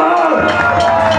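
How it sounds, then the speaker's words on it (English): Audience at a pub gig at Trillians cheering and applauding, a loud dense crowd roar of claps and whoops lasting about a second, with voices mixed in. "Give yourselves a round of applause."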